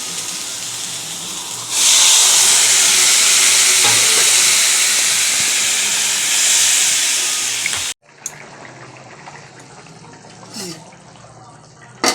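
Water poured into a hot pan during home Bengali cooking, shortly before mustard paste goes in: a sudden loud, hissing sizzle bursts out and holds steady for several seconds, then drops away to quieter, scattered pan noises.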